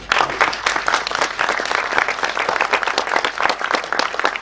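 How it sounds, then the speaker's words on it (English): A festival audience claps loudly and continuously, a dense, uneven patter of many hands with no voices on top. "So why don't we just start clapping, right?"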